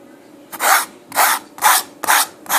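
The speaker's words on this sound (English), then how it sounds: "you just kind of scrape it into the painting in the direction you want to go" A fork tool drags paint across a canvas while an abstract picture is made, giving five rough rasping scrapes in an even rhythm, close and clear, with no voice.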